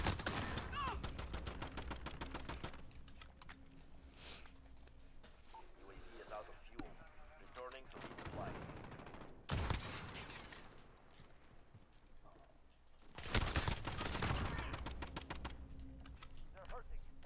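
Video-game shootout gunfire crackles in rapid bursts and single shots, with louder volleys near the middle and end, while players talk over the action.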